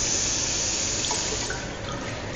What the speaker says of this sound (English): You have the sink, which has got running water